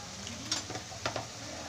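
Tomatoes and spices fry in a pan with a steady, soft sizzling hiss, broken by a few light clinks of stirring, and no one speaking.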